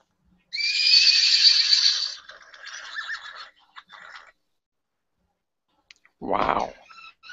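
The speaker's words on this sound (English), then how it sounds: "Horse." Horse whinny sound effect, one loud, close, quavering neigh that trails off into softer snorting, followed after a pause by a short low huff.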